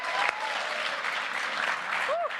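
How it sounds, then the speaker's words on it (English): Applause from families and audience at a junior chef cooking competition, steady broadband clapping filling the whole moment at moderate volume, with a brief bright electronic chirp near the end. "give them all a big round of applause as well"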